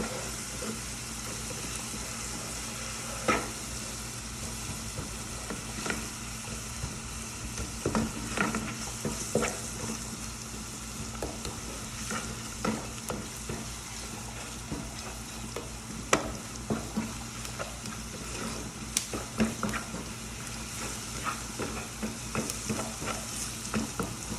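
Garlic sizzles steadily in a pan as a chicken bouillon cube dissolves into it, with scattered scraping stirs and faint clinks over the constant frying hiss.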